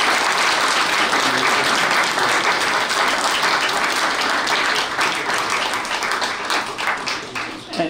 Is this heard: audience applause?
yes